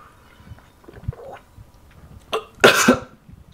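A person coughs after a drink of water or coffee goes down the wrong pipe: small throat sounds, then a sharp cough and a loud burst of harsh coughing near the end.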